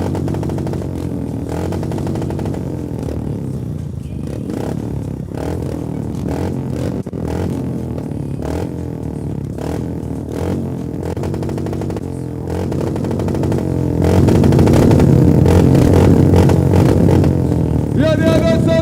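Royal Enfield motorcycles idle and rev on a race start grid at Rider Mania, a dense engine rumble that swells louder near the end, with clatter and a voice speaking over it.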